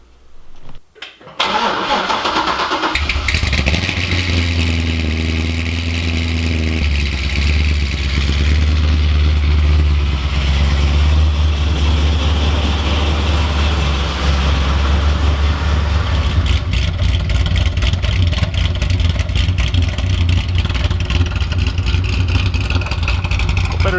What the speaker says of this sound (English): So I'm going to fire the car up and go for a little drive.